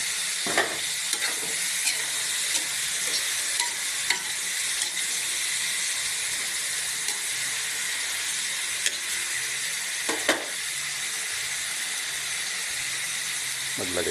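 Bottle gourd (upo) with sardines and tomato sautés in a pan as ginisang upo sa sardinas, giving a steady loud sizzling hiss with occasional scraping stirs throughout.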